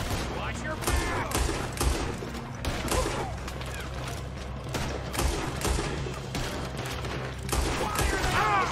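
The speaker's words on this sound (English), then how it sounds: "Why are they shooting at me?" Video game gunfire crackles in repeated bursts and volleys with thuds and mechanical clanks, held at a steady, mid-distance level, with a voice speaking faintly underneath.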